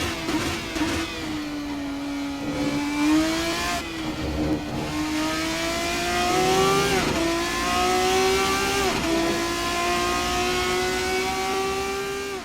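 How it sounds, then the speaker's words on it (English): A Riley Daytona Proto race car in iRacing, its big rear-mounted V8 droning loud and close, revving up through the gears with brief dips at each shift as it laps Donington. "The Riley's got a big lump of a V8 in the back"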